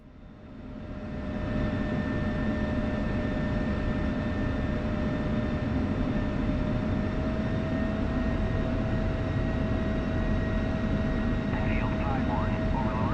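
An F-16C jet engine idling while taxiing in a flight simulator game, rising at the start into a loud steady roar with a constant high whine on top, alone.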